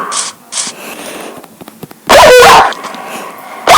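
Dogs barking outdoors, with a couple of short yips early on and then loud, close, sustained barking bursts near the end over quieter background noise.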